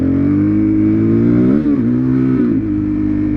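A motorcycle engine revs steadily and loudly, its pitch dipping briefly twice as the rider works the clutch during second-gear clutch-up wheelie practice.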